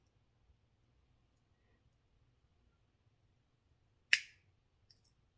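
Scored stained glass snapping apart along its score line with a single sharp, crisp snap, then a fainter click, in an otherwise quiet room.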